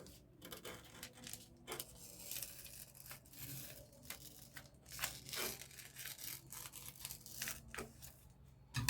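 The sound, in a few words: cutting out a round circle of fabric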